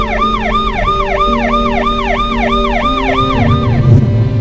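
An ambulance siren on a Paris street where protesters step aside, a loud close wailing tone rising and falling in quick repeated sweeps, with steady traffic rumble underneath.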